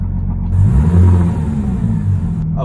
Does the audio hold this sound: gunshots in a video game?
no